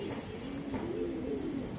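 A large racer pigeon coos softly nearby, low murmuring calls repeating over a faint background hum.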